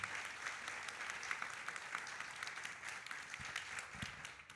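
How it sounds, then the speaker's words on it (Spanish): A crowd at a women's forum applauds a guest speaker, giving a soft, fairly distant wash of steady clapping with a few sharper claps near the end. "Un aplauso para ella."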